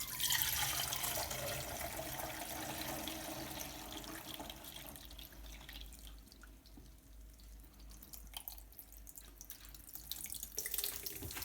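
Kefir water pours through a sieve into a kitchen sink, a continuous splashing stream that tapers into drips, with no talk.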